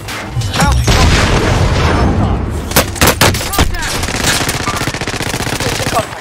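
Loud, close gunfire in a Call of Duty: Warzone battle royale match, with rapid automatic bursts and heavy booming shots cracking over a low rumble, and brief voices mixed in.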